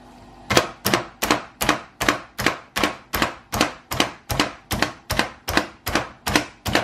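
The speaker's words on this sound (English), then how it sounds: "now we're chopping these onions with this onion chopper" Rapid, evenly spaced chopping clacks from a hand-operated onion chopper cutting onions, about two per second, sharp and close, repeating steadily.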